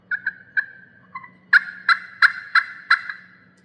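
A friction turkey call is played too sharp, producing a series of shrill, scratchy yelps: a few lighter notes first, then five loud, evenly spaced strokes, close and alone.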